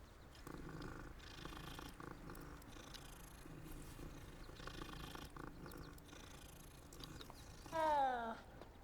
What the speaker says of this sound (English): Let's go ahead and pet the kitty cat.